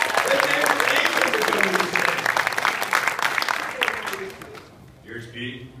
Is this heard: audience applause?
yes